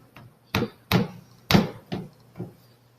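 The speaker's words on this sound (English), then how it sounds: "Packing the sand down in here, or ramming the sand" The peen end of a rammer packs foundry sand into a mold, giving about five dull, thudding blows at an irregular pace, close and fairly quiet, with short gaps between impacts.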